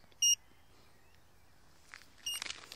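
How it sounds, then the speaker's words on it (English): A wireless bicycle indicator gives a short, bright electronic beep, then after about two seconds a second beep merges into a burst of clicking, close and clear over a quiet background. "One beep and then it does that."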